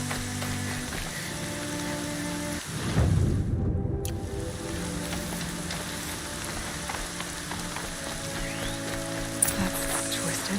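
Steady rain falls in the Horizon Zero Dawn video game, a soft continuous wash of patter with a brief louder splash-like burst near the start, heard alone without talk.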